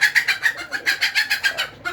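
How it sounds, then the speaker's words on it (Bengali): A pigeon coos from a rooftop, about a dozen rapid, close, fairly loud cooing pulses in quick rhythmic succession, with a short gap near the end before a final note. "এই দেখেন হাই আছে কবুতরটা"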